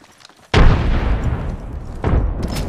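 Frag grenade exploding in a squads battle-royale video game, one sudden loud close blast with a rumbling tail, then a second burst about a second and a half later.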